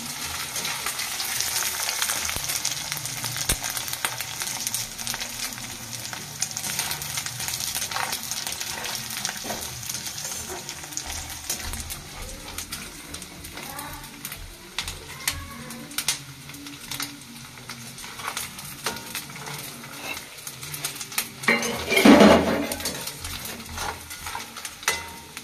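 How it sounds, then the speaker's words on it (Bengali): Peanuts frying with grated coconut in a pan, stirred with a utensil: soft continuous sizzling with scraping stir strokes, faint and close, ending in a louder clatter near the end. "একটু বাদামটাও ভেজে নেবো, নারকেলের সঙ্গে দিয়ে দিলাম।"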